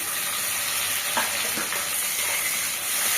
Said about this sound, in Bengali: পেঁয়াজটা ভাজা ভাজা হয়ে যাওয়ার পর দিয়ে দেবো টমেটো কুচি।